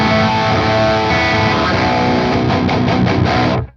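An electric guitar plays thick, heavily distorted chords through a blended DV Mark Marigold amp simulation in Overloud TH-U, with mid and high turned up, loud and close, chugging steadily before stopping sharply.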